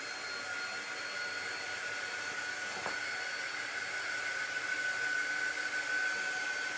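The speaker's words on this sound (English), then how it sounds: "I'm just using my little air dry tool just to speed it up" A small handheld air drying tool blows a steady, even whoosh with a faint whine over freshly painted Dollar Tree craft shapes, running close and unbroken throughout with no talk.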